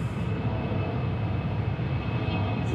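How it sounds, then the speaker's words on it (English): A Delta Boeing 757 airliner inbound from LAX arrives at hazy Atlanta Hartsfield-Jackson International Airport, its engines making a steady, broad roar that holds at an even loudness throughout. "Got Delta Flight 902, 757 coming in from LAX."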